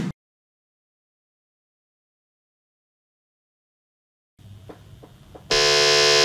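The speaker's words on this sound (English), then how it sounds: "Pressing the buzzer." A quiz buzzer is pressed during a FIFA World Cup head-to-head quiz. After a long silence and some low rustling, one loud, steady, harsh electronic buzz sounds near the end and holds.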